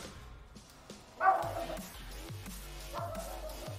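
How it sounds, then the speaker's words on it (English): A dog barks a few times indoors, one sharp bark standing out and then softer yips and whimpers, heard over low background sound. "Sorry about my dog being extra talkative today."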